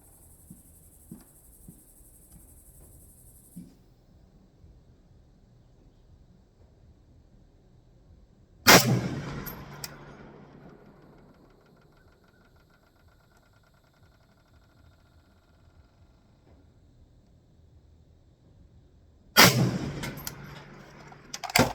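Two loud PSL rifle shots at an outdoor shooting range, spaced about ten seconds apart, each a sharp crack followed by a fading echo, with quiet background between them.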